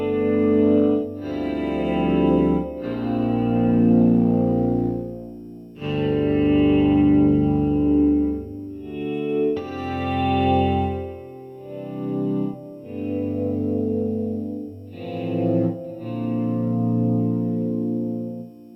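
An electric baritone guitar plays slow chords that swell in and out under a foot volume pedal, each phrase rising from nothing, with chorus, echo and reverb effects on a lush, sustained tone.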